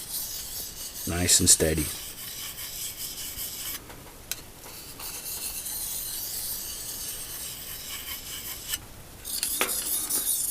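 A bushcraft knife is sharpened with slow, steady rasping strokes of the blade against a stone, a few spaced passes heard up close outdoors in winter, with someone briefly speaking.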